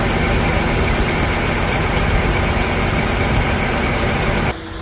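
A John Deere tractor engine idles steadily and loudly up close, a constant broadband mechanical rumble that holds for several seconds before dropping off sharply near the end.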